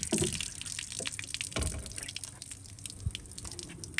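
Water poured from a jug into a muddy drain hole beside a buried Lexus, with irregular splashing drips and gurgles, close by and without voices.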